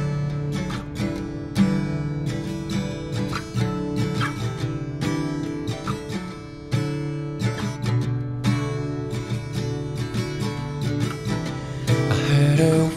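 Self-made background music accompanies Kerbal Space Program play, a dense, steady layered track with sustained tones and a regular pulsing rhythm, continuous and fairly loud with no voice over it.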